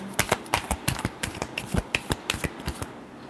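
Tarot cards are shuffled up close, a quick run of about a dozen crisp riffling snaps in an irregular rhythm, moderately loud and without talk.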